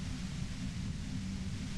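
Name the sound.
radio white noise in a video game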